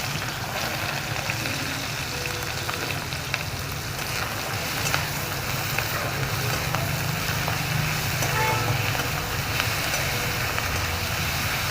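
Onion frying in a few spoonfuls of hot oil in a wok, a steady, loud, dense sizzle and crackle that holds evenly throughout with no talking.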